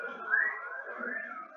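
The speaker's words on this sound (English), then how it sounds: "Stop whistling." A person whistles a wavering tune, the pitch sliding up and down in a continuous, fairly quiet line with no talking.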